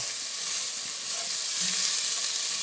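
Food frying in about two tablespoons of olive oil in a pan, being stirred as it softens; a steady, fairly quiet hiss and sizzle runs throughout with faint stirring clatter and no talk.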